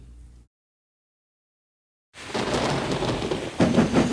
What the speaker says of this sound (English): On the way home, the weather changed. Wind and rain buffeted Edward.